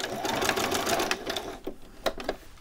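A sewing machine back-stitches a t-shirt collar, its rapid mechanical whirr running steadily at close range before breaking into short stop-start bursts of stitching near the end.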